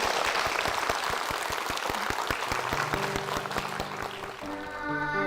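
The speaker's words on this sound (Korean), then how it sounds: "큰 박수 부탁드립니다" Congregation applauding in a Korean church, dense clapping that holds steady, with a sustained tonal instrument or voices entering in the latter half.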